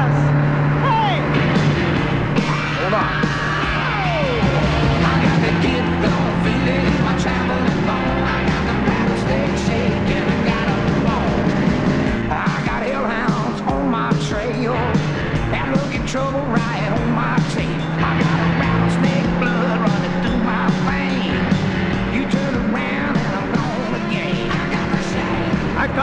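Race cars roar past at speed, a constant high engine whine with shifting pitch sweeps and rattling mechanical noise throughout, with voices shouting over the racket.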